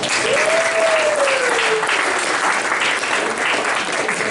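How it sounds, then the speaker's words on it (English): A crowd at a startup pitch event applauds after a pitch, with steady, full clapping throughout and a brief rising whoop near the start. "everyone is clapping for you"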